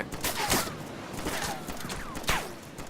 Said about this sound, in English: Oh shit, somebody's shooting at me.